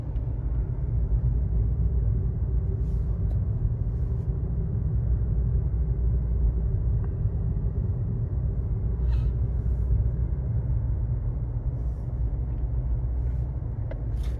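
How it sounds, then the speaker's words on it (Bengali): A car climbs uphill on the road to Jin Pahar in Saudi Arabia, its engine and tyre rumble heard from inside as a steady, loud, continuous drone with no talking. "আস্তে আস্তে গাড়ির গতি বেড়ে যাচ্ছে"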